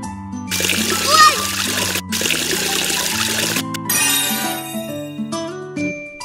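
Cartoon water splashes while a penguin gets washed in a children's shower game, in bursts of spraying water. Bright, tinkly game music and chimes play throughout.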